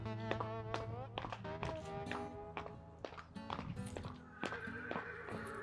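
A horse being trained out of fear of noise clops at a slow walking pace over a thick musical backing, with a horse neighing in the mix.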